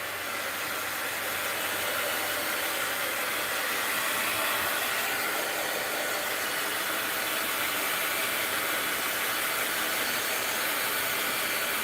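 Hair dryer blowing on freshly varnished art journal pages, a loud, steady, continuous whooshing drone held without a break for the whole stretch.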